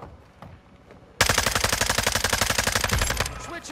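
An FSS Hurricane submachine gun fires in Modern Warfare II, a loud, rapid, sustained burst of shots in close succession that cuts off, with faint game sounds before and after.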